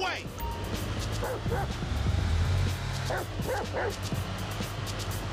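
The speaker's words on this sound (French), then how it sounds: "il y a le chien à l'arrière" Dog in the back of a car in Grand Theft Auto V gives several yips and barks, some whimpering, over a steady engine hum while someone talks.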